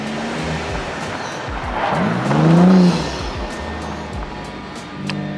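An Audi B5 S4 arrives: the car's engine and tire noise swell as it draws close, peak loudly, then ease off and idle down outdoors.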